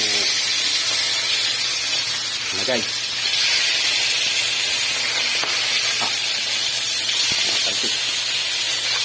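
Loud, continuous crackling sizzle of food frying in hot oil, with a person briefly speaking over it.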